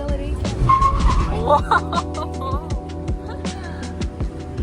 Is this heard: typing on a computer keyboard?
no